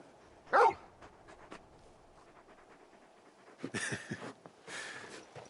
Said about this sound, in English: You're just a big puppy, aren't you? A very big puppy.